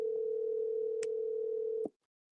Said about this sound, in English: Not getting you on a response on the phone, Darren.